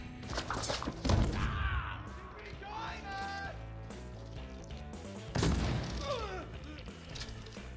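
Rifle gunfire in the shooter game Deathloop: two heavy close shots, one early and one later, each followed by a booming tail, with a voice speaking between them.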